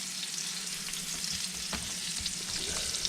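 Deer tenderloin frying in a skillet over turned-down heat, a steady close sizzle with occasional light scrapes and spatters, no voices.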